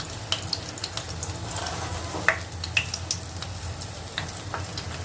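Urad dal frying in hot oil for a bitter gourd dish, giving a steady low sizzle with scattered light pops and crackles, close by and moderately quiet, no talking.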